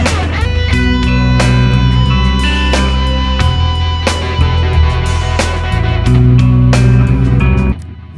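Electric guitar plays sustained chords and picked notes in a rock ballad style, each note echoed by a ping pong delay that bounces repeats back and forth, loud and alone with no talking.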